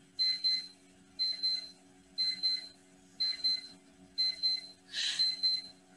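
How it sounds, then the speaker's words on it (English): Electronic beeping sounds in a lecture room: six evenly spaced bursts of high, chirpy beeps about one second apart, fairly faint over a low steady hum, with no talking. "I don't know what that beeping is,"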